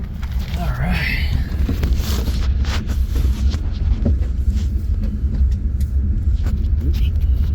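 A 1964 AMC Rambler driving along, its engine a low steady rumble with road and wind noise close to the microphone, while people talk inside over it.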